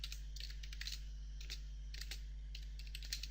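Rapid keystrokes on a computer keyboard while entering text in Word 2016, steady irregular clicking over a constant low electrical hum, close and fairly quiet.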